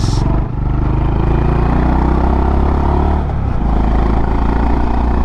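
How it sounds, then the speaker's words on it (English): Deep, loud Honda CB350 cruiser motorcycle engine rumbles steadily up close, a throaty exhaust drone with a brief dip in revs midway. "Hear that exhaust note? Oh boy."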